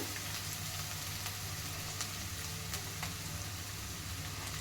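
Garlic paste fries in a pan with a soft, even sizzle like light rain on a surface, continuous and fairly faint, a few tiny pops and no voices.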